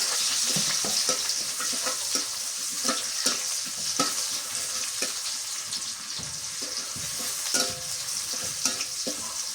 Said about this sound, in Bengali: আমি তেল দিয়ে দিচ্ছি, দিয়ে দিই 2টা বড় এলাচ, ছোট এলাচ আর লং দিয়ে দিই, পেঁয়াজ কুচি দিয়ে দিই